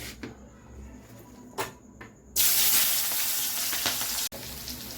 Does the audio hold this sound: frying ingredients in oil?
yes